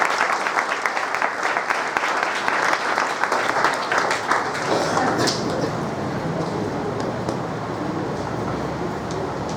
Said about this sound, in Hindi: हम जोर के साथ तालियों के साथ डॉक्टर मान सिंह का हम स्वागत करें